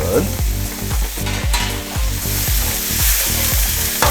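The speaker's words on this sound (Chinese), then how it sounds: "由于空心菜的菜梗比较硬，所以我会需要花一点点时间，先进行炒的动作。" Water spinach stems stir-fried in a wok with chili bean sauce, a loud continuous sizzle broken by rhythmic scraping strokes of the spatula about twice a second, close and alone.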